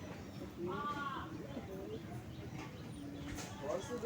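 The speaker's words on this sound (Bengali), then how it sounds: "এটাই আমার পুরনো লাইনের গিরিবাজ পায়রা" Soft cooing from a Giribaz pigeon, a few brief rounded calls among low background rumble and faint movement, fairly close.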